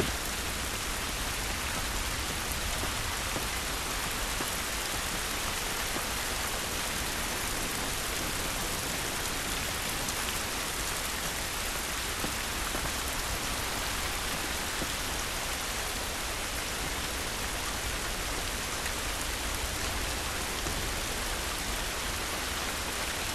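Steady, dense rainfall in The Last of Us, an even hiss of drops pouring down outdoors without pause, loud and constant throughout with no talk.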